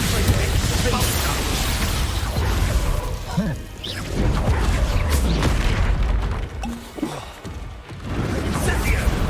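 Repeated heavy booms and crashes from Expulso explosion spells in the video game Hogwarts Legacy, a dense, loud barrage of blasts and impacts with spell-casting voices mixed in.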